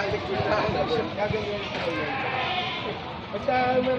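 At a livestock auction market in Padre Garcia, several goats bleat loudly and repeatedly, their wavering cries overlapping, while people talk nearby and faint hoof clatter sounds underneath.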